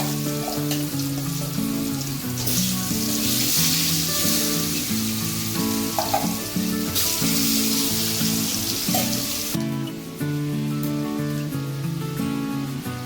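Food frying in hot mustard oil makes a loud, steady crackling sizzle that swells and eases over several seconds, with background music playing throughout.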